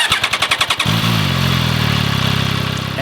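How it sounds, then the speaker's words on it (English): An MV Agusta Turismo Veloce Lusso motorcycle cranks with about eight rapid starter pulses, then fires up and settles into a loud, close, lumpy idle with a rhythmic throb. "Starting this bike up, it immediately sounds very Italian."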